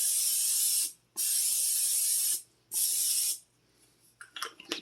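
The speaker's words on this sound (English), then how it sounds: "Spray your sheet." Three long hissing bursts of cooking spray onto a baking sheet, each about a second, separated by short pauses, followed by faint clicks and handling noises.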